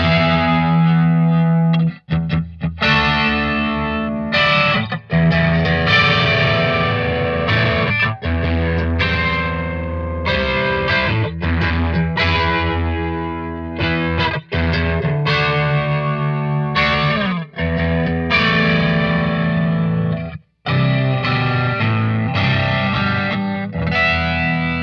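A distorted electric guitar plays chunky riffs, loud and close, with sustained chords and brief gaps between phrases, heavy effects coloring the tone.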